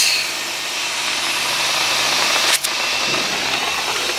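An air compressor runs with a steady, loud mechanical roar. The sound is close and continuous, with one brief dip partway through and no talking.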